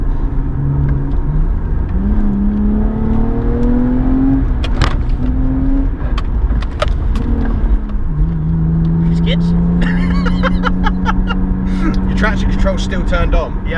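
Modified Lexus IS200 accelerating out of a roundabout, engine revving up through gears with rising tones and shift breaks, loud from inside the cabin, with people talking over it.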